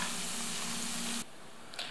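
Battered chicken fillet sizzles steadily in a frying pan, a dense, close hiss of hot oil that drops in level partway through and then continues more quietly, with no talking.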